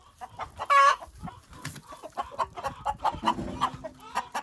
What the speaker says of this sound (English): So there's your chickies